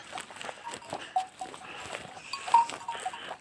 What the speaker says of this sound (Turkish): bir sürü koyunumuz var.